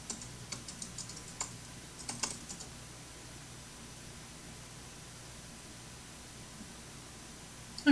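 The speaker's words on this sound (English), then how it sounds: "I'm sure he's typing" Keyboard typing in short bursts of light clicks over a steady background hiss, busy at first and then fading to near quiet.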